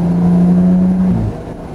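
Toyota Chaser Tourer V with a turbocharged engine holds a steady, loud rev close by, then the pitch drops as the throttle eases off near the end.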